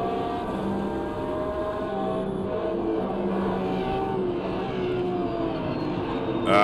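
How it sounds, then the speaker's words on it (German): A Corvette race car in the racing game Automobilista 2 drones steadily at mid distance, its engine note holding a fairly even pitch with slight rises and dips throughout. "Ah, der Sound von der Corvette ist einfach herrlich."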